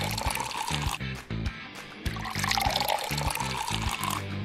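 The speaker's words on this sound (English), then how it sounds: "Let's pour some fresh water into these." Fresh water is poured into drinking glasses, a close, continuous splashing trickle broken by brief pauses as the stream stops and restarts.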